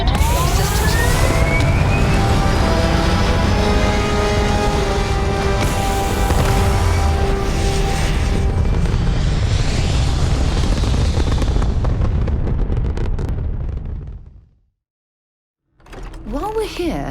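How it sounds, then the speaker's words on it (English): A spaceship lifts off in Starfield with a loud, steady engine roar and rising whine that holds for about fourteen seconds, then cuts to near silence before faint ambient sound returns. "Liftoff looks good. All systems."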